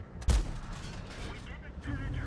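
A single loud, close tank gun shot booms in the World of Tanks game, an Object 260 heavy tank firing, followed by a rumbling decay and low game ambience.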